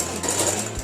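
A sewing machine running a zigzag stitch on a blazer, a brief steady close mechanical whirr with a fast rapid pulse and no voices.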